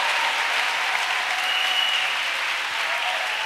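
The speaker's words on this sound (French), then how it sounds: "Let us clap for the Lord Jesus" A church congregation claps steadily for Jesus at a French-English worship service, dense sustained applause filling the room without a break.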